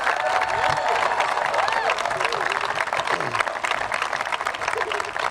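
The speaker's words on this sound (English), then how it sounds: "let's give a big round of applause for World Series champion Alex Bregman." A crowd at a baseball park in Albuquerque, New Mexico applauds and cheers for a World Series champion. The sound is steady and dense throughout, with whoops and shouts over the clapping.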